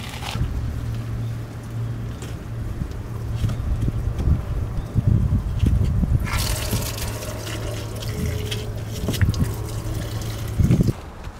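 Water pours and trickles steadily from the low point drains of an RV being winterized, a continuous close splashing that grows louder and more turbulent partway through.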